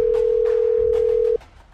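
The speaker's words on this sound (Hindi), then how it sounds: "अभी बॉस को फोन लगा के बताना पड़ेगा।" A telephone dial tone heard while calling the boss in a Free Fire game story, one loud, unbroken steady hum that stops sharply near the end, leaving faint background noise.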